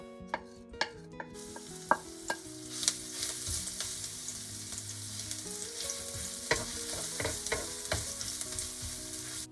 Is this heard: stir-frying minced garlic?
yes